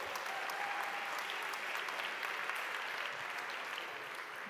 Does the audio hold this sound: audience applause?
yes